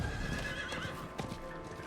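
A horse in Diablo IV clip-clops in rapid hoofbeats and lets out a neigh, close and clear over quiet game ambience, with no talking.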